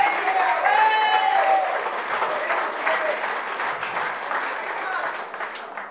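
Audience applause at an evening political speech for Alfred Marie-Jeanne and his team in Le Robert, a dense, steady round of clapping that starts loud and tapers slightly, with cheers and a whistle early on.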